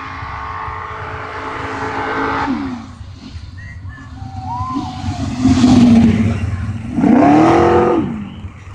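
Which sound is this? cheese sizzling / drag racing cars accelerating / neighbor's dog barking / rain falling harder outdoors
drag racing cars accelerating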